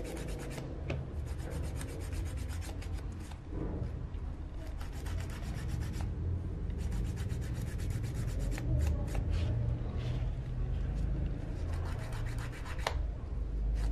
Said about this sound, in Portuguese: Começo a lixar sempre do meio e vou igualando para as pontas.